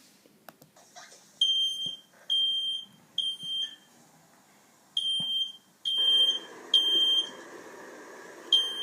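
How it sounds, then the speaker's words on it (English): Home smoke and fire alarm sounding a series of sharp, high electronic beeps in short repeated bursts, fairly close and clear over a quiet room, with a wash of noise joining in toward the end. "you hear the ringing fire alarm sounds and react accordingly to stop the fire."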